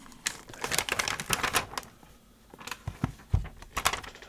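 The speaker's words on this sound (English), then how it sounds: "And this stiff plastic is very loud." Stiff plastic packaging of Topps Chrome basketball card packs handled up close: sharp crinkles, clicks and crackles in irregular bursts, loud and near, with a short quieter pause in the middle and no talk.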